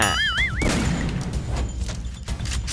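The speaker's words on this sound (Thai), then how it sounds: "ได้ยินแค่เสียงปืนนะน่า" Rapid bursts of Free Fire video game gunfire with sharp cracks and booms, plus a rising electronic whine near the start, loud and continuous throughout.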